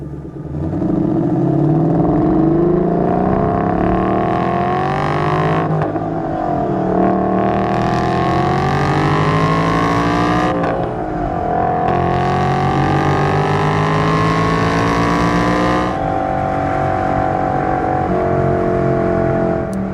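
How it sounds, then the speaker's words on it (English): A 2012 Ford Boss 302 with a six-speed manual accelerating hard on a test drive, its V8 revving up through the gears in rising sweeps with brief dips at each shift, loud and steady from inside the car. "We'll go ahead and get in the throttle some here."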